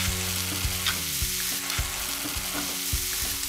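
Mushrooms seasoned with salt and black pepper fry in a pan with a steady close sizzle, broken by a few sharp clicks and scrapes of stirring.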